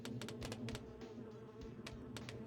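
Bees buzz softly in a video game, a faint droning hum broken by quick repeated clicking taps.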